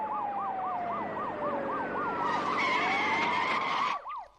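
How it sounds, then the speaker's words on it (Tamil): A police jeep siren wails just ahead on the road, a fast rising-and-falling warble repeating loudly alongside a sliding tone before cutting off abruptly near the end. "நம்ம வண்டிக்கு முன்னால போற போலீஸ் ஜீப்ல இருந்து வர்ற சத்தம் தான் சார்."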